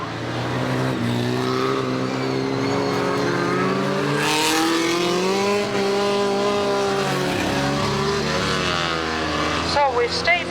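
Stock cars race around a track at the Warton Stock Car Club, their engines a continuous loud roar rising and falling in pitch as they pass, under a commentator's voice throughout.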